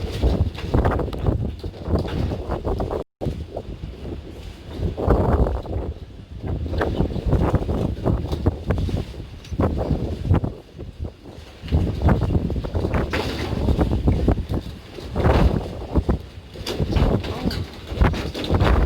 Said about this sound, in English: it's a very strong wind.